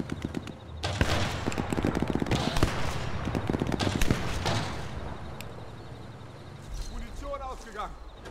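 Gunfire in the shooter game Sniper Elite 4, with a burst of sharp shots and rattling bursts early on, then quieter ambient noise and a voice talking over the latter part.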